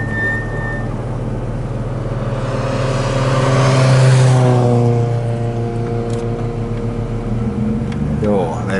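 A rally car blasts past on special stage EK6 at Nivala's Kapinaralli 2022, engine note swelling loud as it nears, peaking with a rising-falling roar, then fading into the distance amid outdoor background noise.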